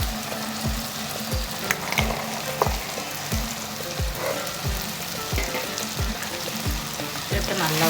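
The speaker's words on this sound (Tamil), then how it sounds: "சேர்த்து நல்லா ஒரு வதக்கி வதக்கணும்." Tomato, boiled potatoes and peas sizzle steadily in a pan for a Thanjavur-style paal kari, with a constant frying hiss, faint stirring clatter and a repeating low bump throughout; no talking.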